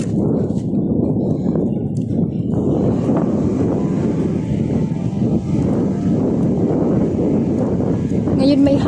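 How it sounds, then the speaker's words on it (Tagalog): Wind buffets the microphone in a continuous, loud rumbling roar with gusty fluctuations, while a voice talks underneath. "Ngayon may hangin mga besh."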